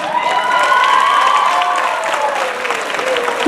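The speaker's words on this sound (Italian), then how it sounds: "all'applausometro, professor Limongi sta battendo tutti" A crowd at a conference on young people, politics and Europe applauds loudly and steadily, with scattered cheers and shouts rising over the dense clapping throughout.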